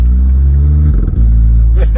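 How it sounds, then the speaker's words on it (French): A car running under load with a steering-wheel paddle shift: a loud, close engine drone briefly dips and stutters near the middle as the gear changes, then resumes its steady rumble, with no talking. "le son du passage, il est quand même marrant"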